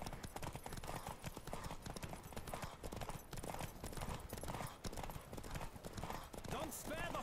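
A horse galloping in The Witcher video game, with rapid, continuous hoofbeats close up and steady throughout, under a voice talking and game sounds.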